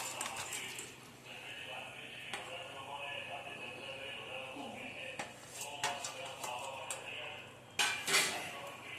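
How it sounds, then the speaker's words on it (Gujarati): Fried paneer pieces go into a simmering curry in a pan, bringing intermittent metallic clinks and scrapes of utensils against the pan over a low, steady kitchen background, with a sharper cluster of clatter near the end. "તળેલું પનીર નાખી દીધું."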